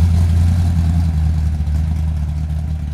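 A red hot rod's engine idles at a street car meet, a loud, close low rumble that holds steady for a few seconds with a slight lumpy pulse, no talking.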